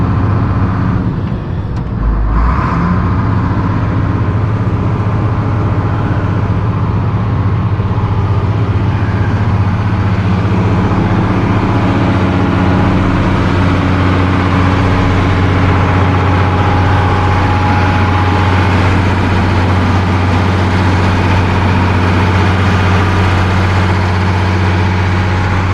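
A large engine idles steadily and close, a loud continuous low rumble that holds on through the whole stretch after a brief disturbance near the start.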